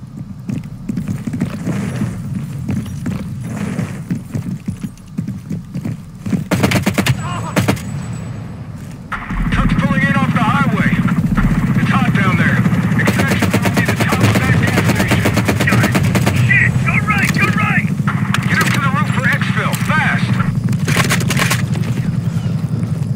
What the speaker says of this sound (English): I'm running with a light machine gun